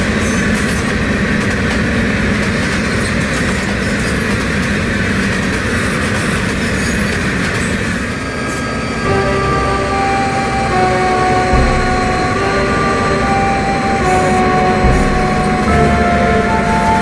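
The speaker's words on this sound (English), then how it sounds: "As the train roars through the summit," Southern Pacific freight train roaring through Tehachapi Summit, a loud, continuous rumble of wheels and cars with rail squeal and tonal whine layered on top, steady throughout with no voices.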